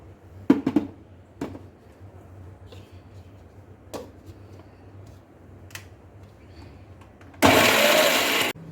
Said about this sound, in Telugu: మిక్సీ పట్టుకుందామండి.